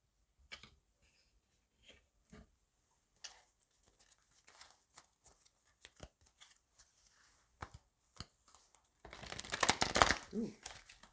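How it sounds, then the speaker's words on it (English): Tarot cards shuffled by hand at close range, with scattered soft riffles and taps followed by a louder, dense burst of card shuffling near the end. "that was a shitty shuffle"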